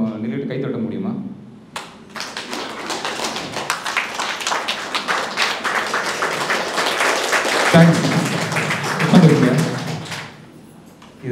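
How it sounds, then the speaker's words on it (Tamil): An audience at a training session in Coimbatore stands and applauds, dense sustained clapping building for several seconds before fading, with a voice speaking over the start and end. "எல்லோரும் ஒரு ரிக்வெஸ்ட் ஏச்சு கொஞ்சம் நின்றுட்டு கை தட்ட முடியுமா?"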